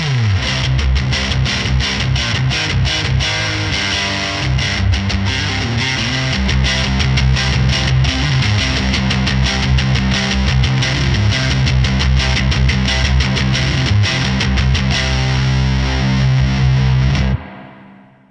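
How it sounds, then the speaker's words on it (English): Electric guitar through a Fender Full Moon distortion pedal set to asymmetrical clipping, playing dense, loud, sustained riffs without a break before cutting off abruptly near the end, with no talking. "I'll switch it to asymmetrical clipping so you can hear how that makes your guitar pop out."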